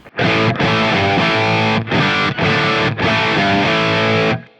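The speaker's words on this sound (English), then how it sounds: "So you would have the bridge pickup running wide open like this," Gibson Les Paul electric guitar on the bridge pickup at full volume, loud distorted chords played in several sustained strums with brief gaps between them, alone without talk.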